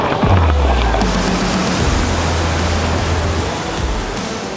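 The multi-tiered Hongdongtan waterfall, whose first tier drops about 100 metres, roars as a loud, broad, continuous rush of falling water close by, with a low droning tone under it at the start.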